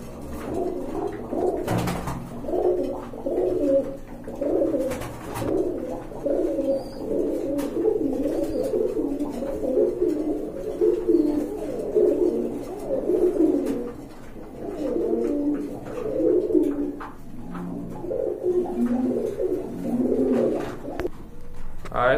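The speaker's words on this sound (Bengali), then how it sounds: "আর এখন কিন্তু আরেক জোড়া কবুতর দেখতে পাচ্ছেন" Pigeons, including teddy and khaki birds kept for sale, coo in a continuous rhythmic murmur of repeated low throaty calls, fairly close, with soft background noise and occasional faint human sounds throughout.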